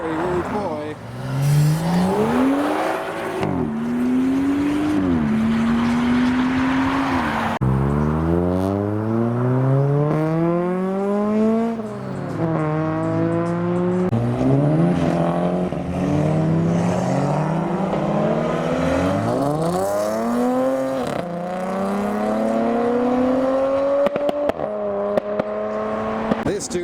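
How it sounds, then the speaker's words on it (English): Modified cars pull away from a HeadturnersUK car meet one after another, engines revving hard and loud with rising and falling gear sweeps, close passes and crackles, while people talk in the background. "there's a few cars leaving, including someone quite rude."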